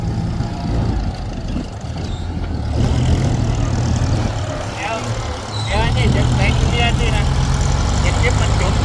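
A large diesel engine rumbles steadily at low revs, with clanking and scraping as it works, while people talk over it.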